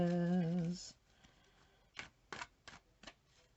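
A voice trails off, then a few soft, crisp card shuffles and riffles follow in quick bursts, quiet and close.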